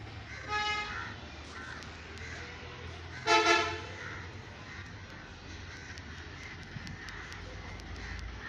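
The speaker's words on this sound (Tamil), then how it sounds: "காக்கா சவுண்ட் நிறையா கேட்கும்" Crows caw in brief harsh bursts, one near cluster around the middle and a fainter call early on, over steady outdoor background hum with no talking.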